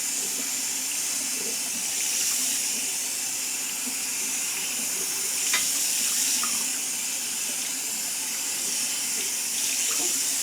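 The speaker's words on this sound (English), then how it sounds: "you want to rinse with that same cool water, and I just gently let it fall over the fibers" Cool tap water runs steadily into a sink, rinsing a synthetic wig with a soft continuous splashing hiss that shifts slightly as the stream falls over the fibers.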